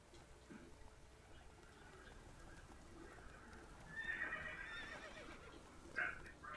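Roach the horse whinnies in The Witcher 3, a faint neigh rising out of a steady game-world background, with a brighter, louder burst near the end; no talking.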